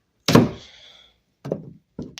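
A hammer prying cheap door trim loose: one sharp woody knock with a brief rattling tail, then two shorter, duller thunks, close and alone with no talk.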